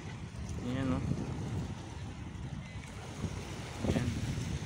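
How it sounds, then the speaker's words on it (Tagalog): Strong waves wash near large ships at Subic, a steady broadband surge of water with wind buffeting the microphone throughout, while a voice speaks briefly near the start and again near the end. "Malakas yung alon."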